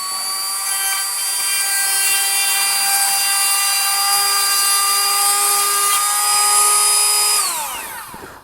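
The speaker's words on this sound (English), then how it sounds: "you're just going to turn the sharpener on" A Milwaukee M12 rotary tool fitted as a chainsaw sharpener runs with a steady high-pitched whine, held loud and close, then winds down at the end.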